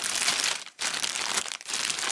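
Close, loud crinkling of a plastic bag in three bursts separated by brief pauses.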